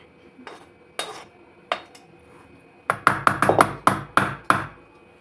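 A metal utensil scrapes and knocks against an iron kadhai (wok) being cleaned out: a few scattered scrapes, then a quick run of about eight sharp, ringing clanks close by, with no talking.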